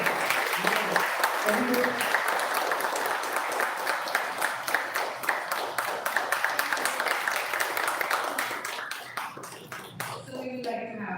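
Applause from an audience at a school event at Westwood School in Rajkot, a dense steady patter of many hands clapping throughout, with a speaking voice over it and the clapping thinning out near the end.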